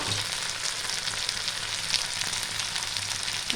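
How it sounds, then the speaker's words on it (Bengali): Tomatoes, ginger and green chillies fry for khichuri in hot oil, giving a steady, close, dense sizzle and crackle that holds even throughout with no talking. "আর টমেটোটা ভালো করে একটু ভেজে নেব।"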